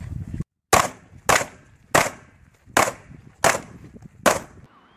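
Six sharp gunshot sound effects crack out at roughly even intervals, loud and close, each with a short decaying tail.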